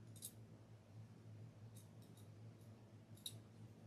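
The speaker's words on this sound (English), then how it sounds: "My scissors are not real sharp on the very tip." Scissors slit ribbon on a wreath frame, a few quiet, crisp snips scattered across a few seconds over a low steady hum, close but faint.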